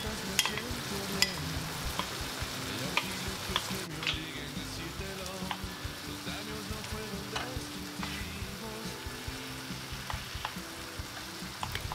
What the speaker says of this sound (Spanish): en este mismo sartén vamos a cocinar los tomates en cubos, el ajo y la cebolla